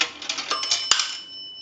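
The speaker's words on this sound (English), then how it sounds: "A nickel, that will ring the bell 1 time." An Automatic Electric three-slot payphone strikes its coin bell once as a nickel drops, a bright metallic ding that rings on and fades after some light mechanical clicks of the coin running through; close, alone.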